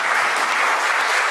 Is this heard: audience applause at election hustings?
yes